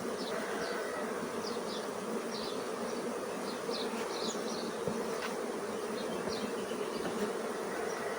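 Honey bees buzzing at a hive, a dense continuous hum of many bees close by, steady and even throughout, with no voices.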